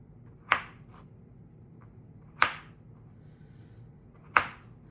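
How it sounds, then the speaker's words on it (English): A knife cuts vegetables into thin round slices with three sharp, isolated chops on a board, spaced about two seconds apart, close and clear against a quiet room. "we're going to just cut it into little circles. So they're thin little slices"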